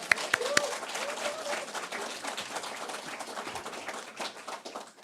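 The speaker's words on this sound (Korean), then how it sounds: "우리 굉장히 반가우니까 다 같이 박수 한번 칩시다" A church audience at an autumn retreat lecture in Gwangju claps together in a dense, steady round of applause lasting several seconds, with a few sharp louder claps near the start and murmuring voices mixed in.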